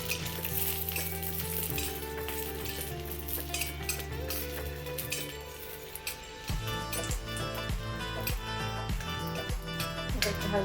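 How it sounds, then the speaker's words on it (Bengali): Garlic frying in oil with green chilli, a constant close sizzle with intermittent clinks and scrapes of a utensil stirring in the pan, and some musical background. "তো রসুনগুলো হালকা করে ভাজা হচ্ছে, একটু লালচে করে ভেজে নেবেন"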